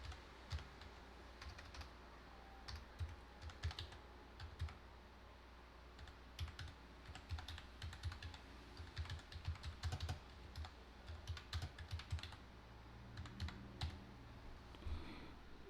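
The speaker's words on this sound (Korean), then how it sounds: "글자 하나 치겠습니다." Steady typing on a computer keyboard while setting up a stock-search screen, with quick irregular key clicks running throughout over a faint background hum.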